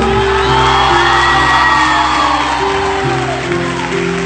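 Theatre audience at a live concert cheering and whooping loudly, sustained shouts and sung-like calls over a steady crowd roar with some applause, close and full for several seconds.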